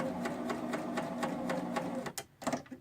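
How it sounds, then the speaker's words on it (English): A serger running a cover stitch along fabric binding, fast rhythmic mechanical clatter going steadily for about two seconds, then stopping with a few short stitches and handling noises at the end. "to lock the stitch, I go over my original starting point, just a couple stitches, and it locks the serger, or the cover stitch"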